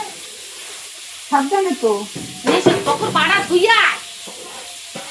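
Fish and chopped onion frying in a pan at home, a soft steady sizzle under close conversational speech, with a short sharp utensil tap near the end.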